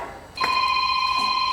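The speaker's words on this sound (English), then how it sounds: "I got a phone call." A telephone begins ringing in a workshop where a cheetah bead seater is used to mount new drive tires: a steady electronic tone starts abruptly and holds, close and clear, over a quiet background.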